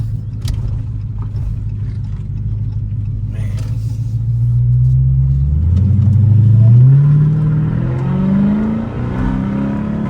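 A 2018 Dodge Charger Hellcat engine rumbles loudly up close and revs as the car accelerates, its deep tone climbing in pitch and then settling back into a steady growl, with no talking.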